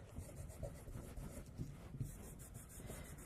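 Steady, close rubbing and scraping on a painted craft piece as it is distressed, a soft continuous abrasive rasp with slight strokes and no talking.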